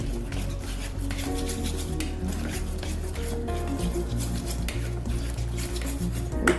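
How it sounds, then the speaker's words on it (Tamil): A spoon scrapes and clinks steadily against a bowl as semolina rava idli batter is stirred after baking soda is added, a close, continuous kitchen mixing sound with no talking. "பேக்கிங் சோடா போட்டதுக்கப்புறமா நல்லா கலந்துக்கணும்."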